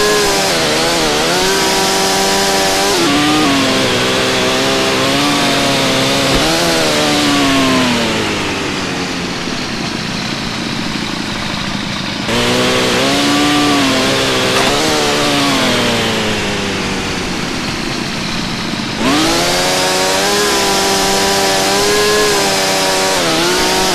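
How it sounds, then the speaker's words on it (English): A chainsaw in the survival video game StarForge cuts a felled tree into logs, its loud buzzing engine repeatedly revving up and dropping back in several long cycles, close and continuous. "you still use your chainsaw to cut it into logs"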